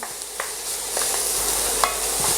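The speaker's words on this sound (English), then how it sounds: "So my onions are sweating down nicely." Onions sweating gently in a pan for black pudding, an even soft sizzle with a few light spatula taps and scrapes, close and steady, no talking.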